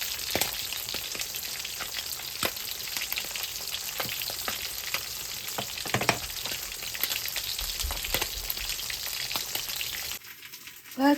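Small sudai (soodai) fish frying in hot oil in a pan, a loud continuous sizzle with crackling pops, steady for several seconds before briefly dropping off near the end.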